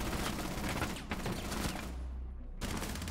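Dense automatic weapon fire from the shooter game Rainbow Six Siege rattles in a loud, continuous stream, dipping briefly before stopping abruptly and then resuming.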